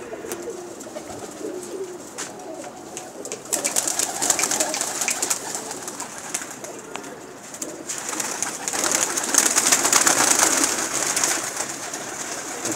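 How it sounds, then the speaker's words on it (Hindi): High flyer racing pigeons coo in a loft, soft repeated throaty calls rising and falling over a steady outdoor background, growing fuller and louder toward the end. "बाजी वाले कबूतर हैं"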